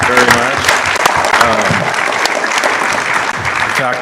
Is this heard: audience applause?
yes